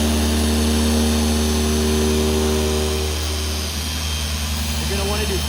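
Car paint polisher on a single-stage paint BMW E30, running at a higher speed setting with a steady loud motor whine and hum, pitch shifting slightly partway through.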